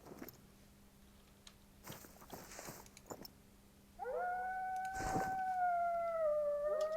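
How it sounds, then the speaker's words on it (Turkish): After a few faint knocks and rustles, a long wavering wolf howl from the video game theHunter: Call of the Wild rises and carries on to the end, clear and fairly close, with a soft thud midway. "kurtlar ses veriyor."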